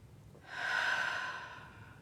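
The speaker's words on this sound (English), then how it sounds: "In through the nose, out through the mouth." A single slow, deep breath drawn in through the nose and let out through the mouth during a guided morning breathing exercise, rising softly, sustained, then easing off, close and fairly quiet with no talking.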